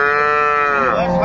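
A cow at a cattle market gives a single long, loud moo close by, a sustained droning low call that bends downward near its end, with no talk over it.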